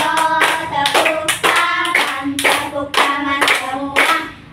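A group claps hands together in repeated loud bursts during a hand-and-finger exercise routine, about eight sharp rhythmic volleys of many hands at close range, with no talking.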